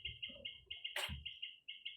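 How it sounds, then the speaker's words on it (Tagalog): Birds chirp outdoors in a steady run of repeated high tweets, faint and a little distant, joined by a brief gust of noise and some low rumble. "Kita nyo, may background kaming ibon."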